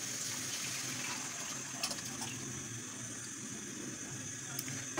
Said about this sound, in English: So I'm going to add my chicken stock,